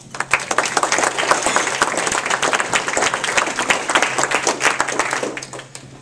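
An audience gives a warm welcome to Kristi Noem at a 2010 South Dakota political event with sustained, loud clapping from a crowd that tapers off near the end.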